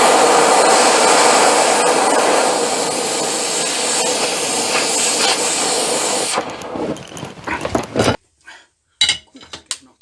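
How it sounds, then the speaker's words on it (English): An Oxy Turbo torch heats steel while bumper brackets are being made, giving a loud, steady roaring hiss for about six seconds before it cuts off, followed by a few scattered clanks and taps. "I'm going to try the Oxy Turbo now."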